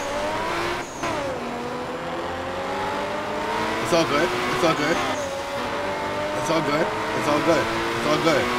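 A 2J-engined car revving in the racing video game Night Runners, with sustained rising and falling engine tones and repeated rev sweeps across traffic, heard under a constant layer of game audio and speech.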